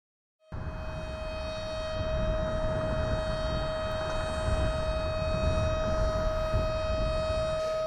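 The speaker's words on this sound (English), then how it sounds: "We do have a severe weather alerting system, sometimes referred to as tornado sirens." An outdoor civil defense tornado warning siren sounds a single sustained, steady tone that starts abruptly and holds loud and unbroken, with a faint low rumble beneath and no talking.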